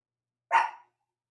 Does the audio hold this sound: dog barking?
yes